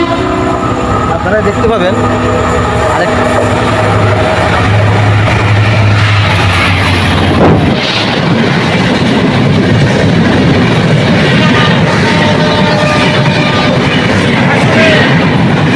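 An express train passing in Bangladesh, its horn blaring at first, then a loud, close roar of rolling wagons with steady clickety-clack over the rails, while someone speaks briefly.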